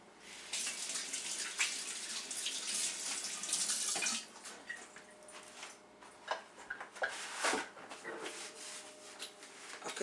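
Running tap water streams steadily into a sink while hands wash beneath it, a continuous splashing rush that shifts and breaks up as the hands move through the flow, heard close with no talking.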